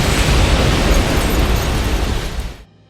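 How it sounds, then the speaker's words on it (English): Fireworks burst in the Kingdom Hearts 3 video game, a loud, dense rumble of overlapping booms and crackles lasting nearly three seconds before cutting off abruptly. "Chirithy watching fireworks."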